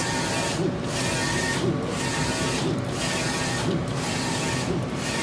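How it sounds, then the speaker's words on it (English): A DTF printer runs double-sided hot peel film, producing a continuous mechanical whir with a rhythmic clack about once a second as the print head passes back and forth, close and steady, with no talking. "I'm going to print a couple of feet of this"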